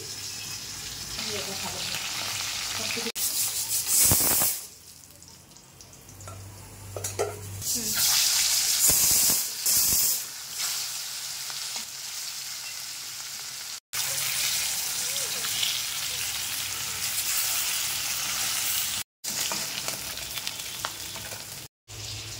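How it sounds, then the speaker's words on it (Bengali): A fish head fries in mustard oil with loud, crackling sizzles that come and go as the pieces are stirred and turned, up close, with brief pauses and soft talk in between. "এই মাছগুলোকে ভেজে নেব, সেই জন্য মুড়োটাকে আগে ভেজে নিই।"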